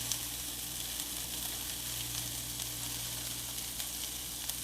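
Mushrooms sizzle and fry in a hot pan while being stirred, a steady close crackling hiss with occasional scraping, and no voices.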